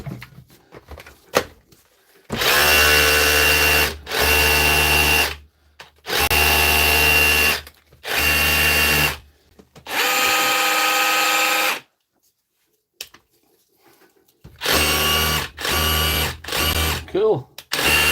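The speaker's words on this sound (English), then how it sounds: "I'll take a block and drill it" A power drill bores into a block in a workshop, running in several loud bursts of a few seconds each with short pauses, then a quieter stretch and more bursts; people talk faintly between runs.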